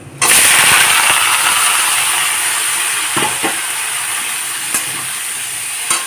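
Loud sizzle bursts as bottle gourd pieces hit hot oil with dried chillies, then a steady frying hiss over high flame with a few scraping stirs of a spatula.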